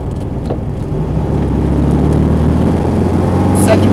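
A 1968 VW Karmann Ghia drives along, its engine droning low and steady and growing louder after a downshift from fourth to second, recorded close from inside the car.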